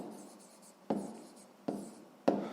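Pen strokes scratch on paper during a sixth-grade maths exercise, a soft continuous scribbling broken by three sharper taps or stroke starts, close and quiet with no talk.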